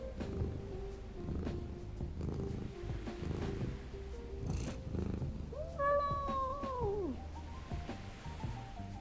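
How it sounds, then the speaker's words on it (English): A cat purrs softly up close with a low rumbling texture, then lets out a couple of clear, drawn-out meows partway through, indoors and without talk. "Oh look, there's a real cat walking around."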